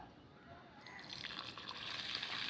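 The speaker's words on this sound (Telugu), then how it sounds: "చల్లనీళ్ళు పోసుకొని నానేసుకోవాలండి" Cold water pours into a plastic container of soaking black gram, a soft liquid trickle that builds steadily and grows slightly louder over a couple of seconds.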